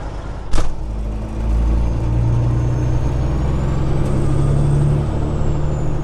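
A semi truck driving, with a loud, steady low engine rumble and road drone throughout, a short hiss of air near the start, and a faint whine rising in the background.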